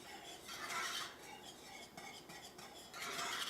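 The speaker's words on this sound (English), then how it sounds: "Just take your time and stir that roux around" A roux being stirred in a pan, with a spoon scraping and rubbing against the metal in steady strokes, closer and louder at the start and end, with no talk.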